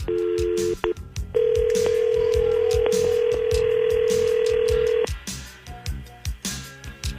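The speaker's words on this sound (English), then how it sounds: "We're going to dial up your wife, we're going to dial her coworker" A phone call is dialled and rings through: a brief tone burst, a short pause, then a loud, steady ringing tone held for about four seconds, ending as faint background noises take over.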